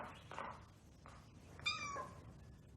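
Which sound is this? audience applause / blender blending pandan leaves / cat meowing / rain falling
cat meowing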